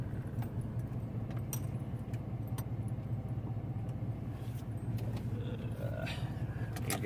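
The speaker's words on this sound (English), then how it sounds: "I've just got to go and get around this parking lot and see if I can't find me a good parking space for this big old truck." A big truck drives slowly through a parking lot and pulls into a space, its low engine rumble steady and close the whole way through.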